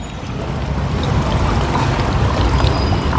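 Water pours steadily into an overheating car's radiator in a continuous rushing gurgle, close and fairly loud, with no talking.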